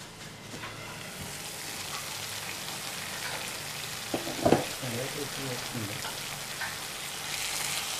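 Soaked dal cooking under a lid in a pan gives a steady, soft sizzle and light crackle throughout, with one brief louder clatter midway and no talking.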